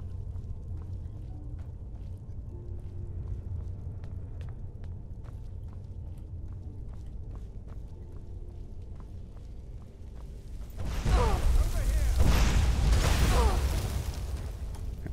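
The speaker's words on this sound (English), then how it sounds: "Just explosions of ice." Ice spell explosions in the video game Skyrim erupt after a long quiet stretch of faint ticking, a loud cluster of bursts and whooshing blasts lasting several seconds.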